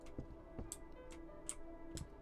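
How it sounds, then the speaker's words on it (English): Quiet clicking ticks in the horror video game Fear The Timeloop, inspired by Resident Evil, come about every half second in an uneven tick-tock pattern over a dim background hum, alone without speech. "I really want to know what the clicking noise was."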